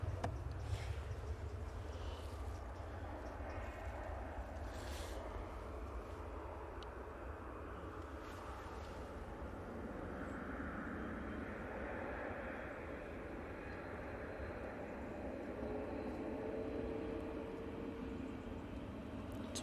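An arriving airliner lands at an airport, a broad distant engine roar and rumble sustained throughout, steady and moderately faint, with no talk over it.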